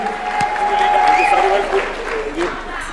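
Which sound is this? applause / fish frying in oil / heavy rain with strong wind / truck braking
applause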